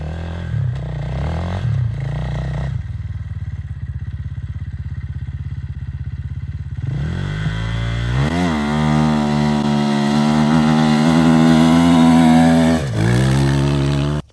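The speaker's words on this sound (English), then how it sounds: "This is a 3rd gear start in deep wet sand out at the dunes on a slight uphill." A KTM 500 motorcycle on a big new rear tire with 14/48 gearing takes off in third gear in deep wet sand on a slight dune uphill. Its engine idles, then revs hard and strong as it pulls away, loud and close.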